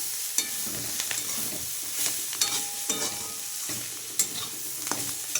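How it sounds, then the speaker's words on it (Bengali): Two kinds of leafy greens, coffee greens and drumstick leaves, stir-frying in a pan: a continuous close sizzle with repeated sharp scrapes and knocks of the stirring utensil, no talk. "দু রকম শাক মিক্স করে ভাজা করছি"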